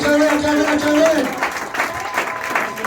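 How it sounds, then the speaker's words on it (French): Wedding guests cheer and applaud together at a French-speaking wedding reception, with steady clapping and scattered shouts under a loud, continuous crowd roar, and a voice sounds over the top. "Donc je demande aux célibataires d'acclamer, acclamer"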